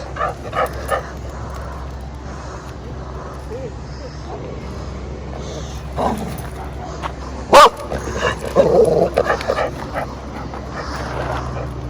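A dog barks and yips a few times outdoors near a parked RV. Whimpers and an insect-like drone sit under the barks, and people talk nearby.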